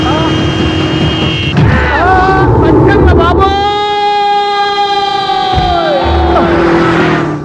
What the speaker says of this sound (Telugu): హార్నెట్టండి బాబు, సైరన్నే కొట్టాడు